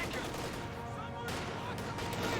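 Dense, continuous gunfire from an M1919 machine gun and a .50 cal in the Company of Heroes 2 video game, a loud unbroken rattle of shots with a faint voice underneath.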